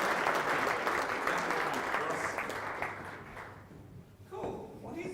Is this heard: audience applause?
yes